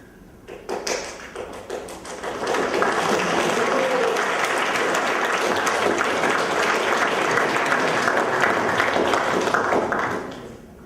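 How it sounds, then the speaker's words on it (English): Audience applause at a conference talk on software architecture breaks out early, swelling after about two seconds into a dense, steady wash of many hands clapping, then fading near the end. "So premature clapping"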